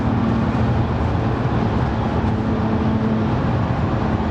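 BMW E36 with a straight-six engine laid over the front axle, driving on a road; a steady, loud, broadband engine and road roar continues throughout with no break.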